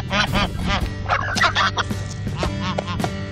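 Geese honking loudly and repeatedly while harassing a flock of rescued former battery hens in a farmyard, harsh overlapping calls close by with some clucking mixed in.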